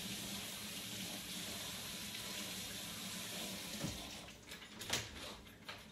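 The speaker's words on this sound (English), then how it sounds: "I'm gonna rinse this off because zucchini is really watery." Zucchini gets rinsed under a running kitchen tap, a steady close hiss of water that runs throughout, with a few splashes and clunks toward the end.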